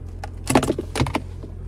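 Car key fob for a 2025 Toyota Prius Plug-In XSE Premium, kept in a small case, handled up close so the keys clink and jangle in a few quick bright bursts.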